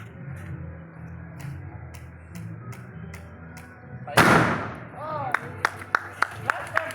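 Homemade monkey-scaring gun built from waste materials fires one loud, sharp bang near the middle, followed by a burst of crisp clicks and pops, with background voices talking throughout.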